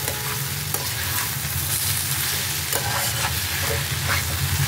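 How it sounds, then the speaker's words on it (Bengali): Lentil dumplings (bori) sizzle in oil in a pan while a spatula stirs them, a close, steady frying hiss broken by soft scraping strokes and light clicks, with no talking. "বড়িটা দিয়েছি, আমি একটু নেড়ে চেড়ে নেব"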